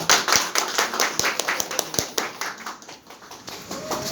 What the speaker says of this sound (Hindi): सभी के लिए मैं चाहूँगा एक जबरदस्त तालियां